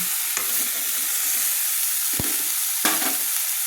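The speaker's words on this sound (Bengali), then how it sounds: "আমি নেড়ে দেখাচ্ছি দেখুন কী সুন্দর ভাজা হয়ে গেছে" Cauliflower florets sizzle steadily in hot oil in a wok, with a few sharp scraping clinks of a spoon stirring them at intervals, close and clear with no talking.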